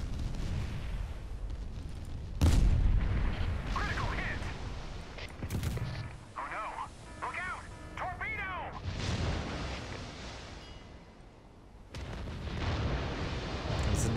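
Naval guns firing in the Steel Ocean warship game: several heavy booming shots, one sharp and loud early on, with more blasts later, all over a steady sea and engine rumble and game music.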